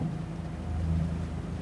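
The outboard motor of a Seajay 4.25 Avenger boat drones steadily at close range, a continuous low hum with a rough mechanical buzz and no voices.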